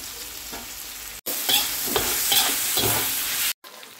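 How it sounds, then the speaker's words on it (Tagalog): Onion sautés in a hot pan, a loud close sizzle with several quick stirring scrapes, cut by two brief silent breaks, with no voices. "gisahin naman natin tong ano to, sibuyas"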